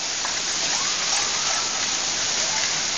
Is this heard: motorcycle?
no